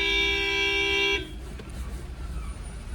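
A car horn sounds on a road trip through Saurashtra, one loud sustained blast lasting about a second that cuts off abruptly into quieter road and engine noise.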